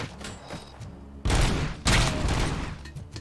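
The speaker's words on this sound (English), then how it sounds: "they're throwing grenades?" Grenade explosions and gunfire in the RoboCop: Rogue City video game, two loud, close booming blasts about half a second apart over a rumbling battle background.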